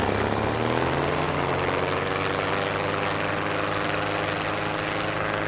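A small propeller aircraft engine from the video game TrailMakers drones steadily at close range, a constant buzzing hum with a slight pitch rise near the start and no voices.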